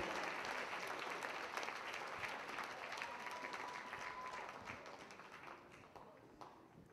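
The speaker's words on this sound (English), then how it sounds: "Big round of applause" Audience at an advanced Jack and Jill swing dance contest final claps in a sustained, dense round of applause, loud at first and slowly thinning out, with faint voices underneath.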